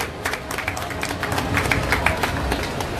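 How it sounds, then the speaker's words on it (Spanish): Audience applause at an outdoor Salvadoran cultural festival for a San Miguel residents' association as Miguel Pereira is welcomed, a steady wash of many hands clapping with crowd murmur and some voices underneath. "Un fuerte aplauso,"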